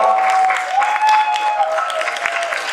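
Theatre audience clapping after a stage play, a loud, continuous crackle of many hands, with a sustained organ-like tone ringing underneath and a few louder individual claps standing out.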